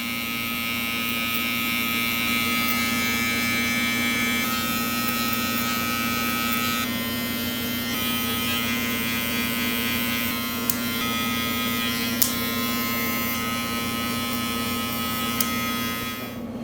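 Electric hair clippers buzz continuously at close range while cutting a drop fade, a steady high-pitched hum with small shifts in tone and a few faint clicks.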